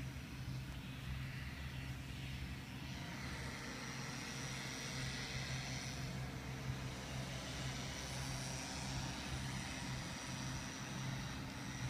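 Remote-control model airplane flying after a side hand launch, its small motor a steady distant buzzing drone that holds for the whole stretch under outdoor wind noise.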